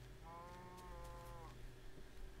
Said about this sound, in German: Aber wir haben wieder eine Kuh.